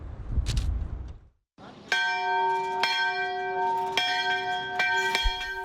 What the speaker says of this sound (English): A bell summons the faithful to the Church of Mar Girgis, St. George, in the city of Erbil in northern Iraq